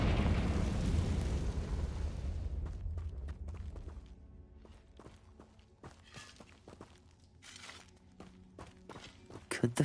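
Spell explosions in Hogwarts Legacy on PS5: a loud blast bursts at the start and decays over a few seconds. Softer footsteps, thuds and crackling follow, and a final sharp pop comes at the end.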